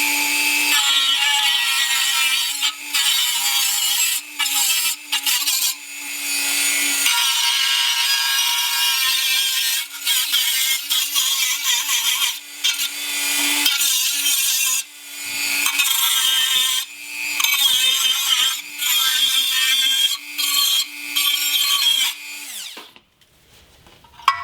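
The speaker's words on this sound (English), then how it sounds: "they'll get a Dremel and literally cut this little section here out" A Dremel rotary tool whines steadily while cutting a small section out of wheel-hub hardware to make room for ARP extended wheel studs. It runs in long high-pitched bursts broken by brief pauses and finally cuts off.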